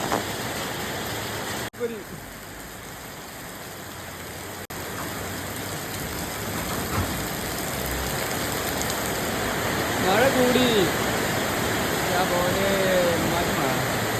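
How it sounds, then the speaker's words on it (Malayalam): Heavy rain falls steadily on surfaces during a fishing outing near Paloor, a dense hiss that swells louder partway through, with brief voices over it. "നല്ല മഴ തുടങ്ങി"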